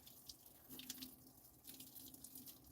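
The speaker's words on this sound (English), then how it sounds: "You could probably hear me pouring the water." Water poured by hand outdoors at a van-life camp, a soft, close, continuous splashing trickle with faint drips, no voices.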